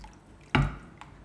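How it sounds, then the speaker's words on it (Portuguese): Liquid pours into a chickpea sauce in a pan with a single short wet plop and splash, followed by quiet stirring. "E agora eu vou colocando aos poucos e vou mexendo."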